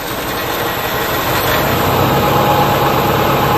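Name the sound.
Subaru engine running in drive with wheels spinning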